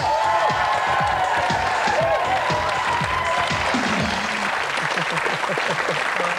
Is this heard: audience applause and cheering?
yes